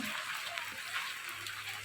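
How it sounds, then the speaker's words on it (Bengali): Steady hiss of rain falling, soft and even throughout, with no distinct drops standing out. "ভালোই বৃষ্টি পড়ছে"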